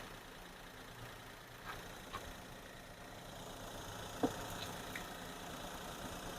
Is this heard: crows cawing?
no